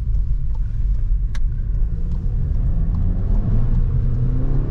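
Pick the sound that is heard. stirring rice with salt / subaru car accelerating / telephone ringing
subaru car accelerating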